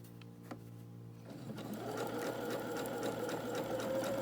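A sewing machine stitching a quilt seam, quiet at first, then whirring in a steady fast rhythm that holds close and even to the end.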